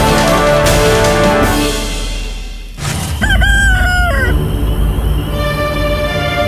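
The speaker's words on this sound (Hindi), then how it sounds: "कुकड़ू कू, मुर्गी की बांग," A rooster crows once, a clear rising-then-held call following a dense, noisy stretch of sound that drops out just before it.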